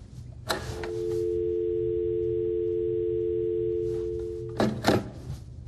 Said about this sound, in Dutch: Was natuurlijk dat Anke als eerste binnenkwam en keek of de telefoon het deed